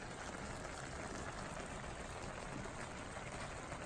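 Arroz con pollo rice simmers in a pan centered on a stovetop burner, a faint, steady bubbling crackle that continues without pause and with no talking.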